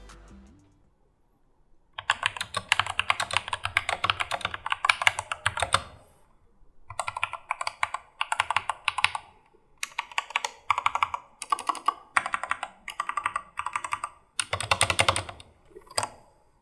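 Close, crisp typing on a Skyloong SK61 60% mechanical keyboard in bursts of rapid clacking keystrokes, separated by short pauses.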